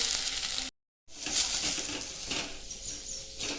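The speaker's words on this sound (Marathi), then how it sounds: "अर्धा चमचा तूप टाकून आहे ना आपण आहे ना नारळ भाजून घेऊ" Grated coconut roasting in a little ghee in a pan gives a bright, steady sizzle with light stirring scrapes, close by, broken by a brief full silence early on and without speech.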